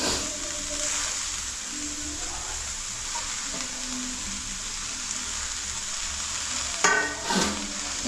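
Coriander and mint green masala frying in a pan, a steady close sizzle with a brief burst of stirring and scraping near the end.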